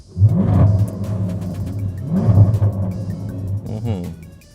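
A 2018 Jaguar F-Type SVR's 5.0-liter supercharged V8 barks into life and is blipped twice, each sharp rev swelling loud and close then falling back to a throbbing idle with faint crackles.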